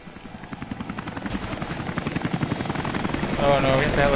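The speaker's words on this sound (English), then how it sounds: "Oh no, we got the helicopter." Helicopter in the video game Rise of the Tomb Raider, its rotor thumping in a steady rapid rhythm that grows louder and closer, with a brief tonal swell near the end.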